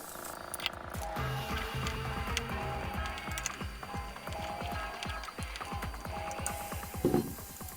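A screwdriver drives small screws back into an original Digimon virtual pet, giving close, busy clicking and ratcheting taps with scraping handling noise throughout.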